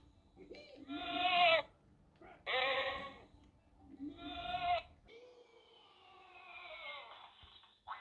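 A cartoonish sheep villain, Sheep Creep from the Skylanders Trap Team video game, bleats three times in loud, clear bursts, followed by a falling whistle-like sound effect.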